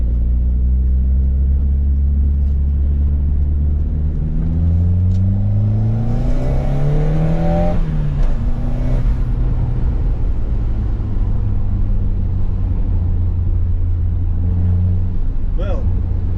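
A Cosworth-engined car drives close by, its engine loud and revving, the pitch climbing through several gear pulls before settling into a sustained, droning run.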